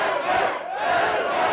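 Spectators at an arm wrestling match between Levan Saginashvili and Ermes Gasparini at King Of The Table 6 roar and chant, a loud, sustained wall of crowd voices swelling and dipping.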